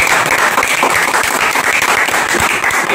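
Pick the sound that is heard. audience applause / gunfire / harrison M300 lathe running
audience applause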